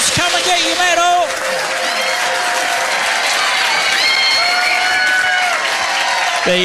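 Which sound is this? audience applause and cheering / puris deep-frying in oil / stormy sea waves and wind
audience applause and cheering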